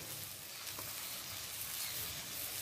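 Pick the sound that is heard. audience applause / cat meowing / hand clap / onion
onion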